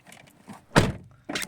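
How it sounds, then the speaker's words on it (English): A Mini Cooper S car door opening: a solid thunk from the latch and door, followed by a second clunk a moment later, close and clear without talk. "So open the door"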